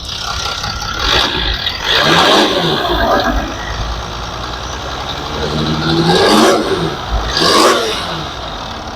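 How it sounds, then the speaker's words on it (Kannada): A 2012 Mercedes-Benz GL350 4MATIC with a diesel V6 runs steadily, its smooth, subdued hum rising in a few brief swells of revving, heard nearby with no talking. "ಡೀಸೆಲ್ ಇಂಜಿನ್ನು, ಅಷ್ಟು ಸ್ಮೂತ್ ಆಗಿದೆ ಇಂಜಿನ್ನು"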